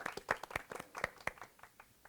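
Scattered hand claps from a small audience at a climate action panel, greeting a provincial legislator, a few distinct claps in an uneven, sparse rhythm, fairly quiet and close.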